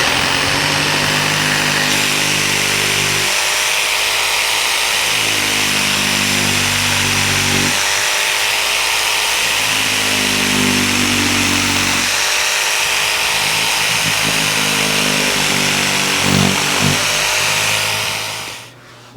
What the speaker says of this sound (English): I'm just going to use just nothing more than a handheld saber saw